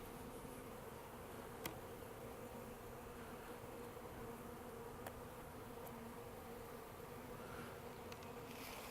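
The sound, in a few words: honeybees buzzing and fanning on a hive frame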